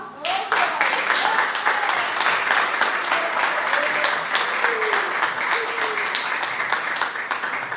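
A church congregation claps continuously and loudly through the whole stretch, a dense even wash of hands with faint voices threaded underneath.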